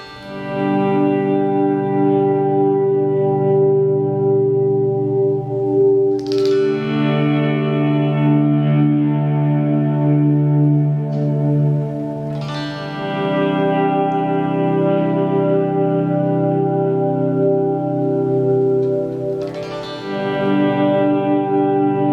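Overdriven electric guitar with reverb and delay, sustained distorted chords ringing out with long shimmering trails, a fresh chord struck roughly every six seconds, loud and alone.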